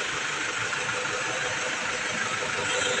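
A Toyota Fortuner with low power, after a turbo actuator replacement, intake cleaning and a new fuel filter, runs steadily in a short test, giving a faint, even engine hum with no talk.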